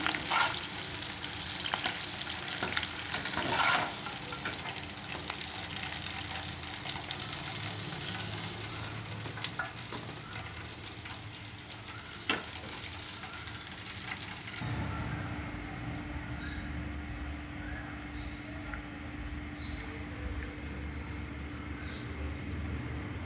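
Curry leaves and green chillies frying in hot oil as a garnish for eggplant bajji, a dense, close crackling sizzle for about fifteen seconds, then settling into a quieter, steadier hiss.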